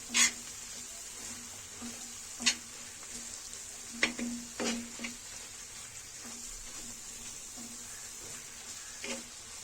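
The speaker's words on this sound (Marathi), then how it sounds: "त्याच्यानंतर गरम मसाला आणि जिरेपूड हे पण चांगले एकजीव करून घ्यायचं" Egg masala being stirred in a pan with garam masala and cumin powder, a soft scraping of the spoon over a low sizzle with a few sharper clinks against the metal and no talk.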